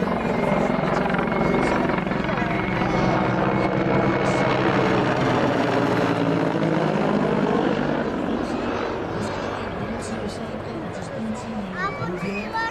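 An Mi-24 helicopter circles overhead, its rotor and engine roaring loudly and steadily before easing slightly as it moves off, with people talking nearby.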